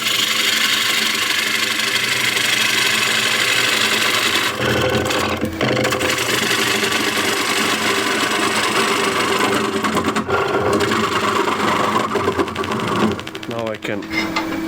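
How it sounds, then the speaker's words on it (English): A 16 mm ball gouge cutting a wooden tray on a spinning lathe, a loud continuous scraping hiss over the steady hum of the motor, with shifts in the cut partway through. "This is a 16 mil ball gouge."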